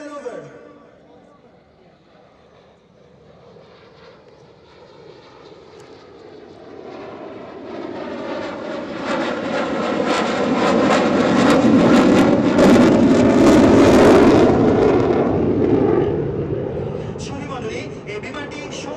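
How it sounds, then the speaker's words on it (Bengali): A MiG-29 fighter jet performs slow-speed handling manoeuvres over a parade ground, its engine roar building from faint to a loud, rumbling peak before easing off, while an announcer speaks over it. "প্যারেড গ্রাউন্ডের দক্ষিণ আকাশে মিগ-29 প্রদর্শন করবে"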